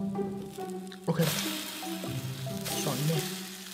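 Battered fried-milk slices sizzle in a hot pan, a close crackling fry that swells as pieces are laid in and flipped, with a faint steady tone running underneath.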